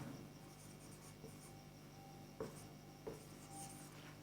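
Chalk or marker strokes on a board during a physics lecture on the lens maker equation, soft scratchy scrawling with a few sharper taps, faint and close in a quiet room.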